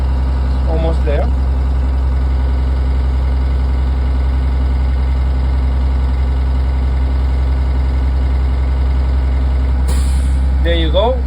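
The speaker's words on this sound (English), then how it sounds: "That was the governor releasing air." Truck air brake governor releasing air: a steady, loud idling engine near by with a short, sharp burst of hissing air late on and brief voices over the idle.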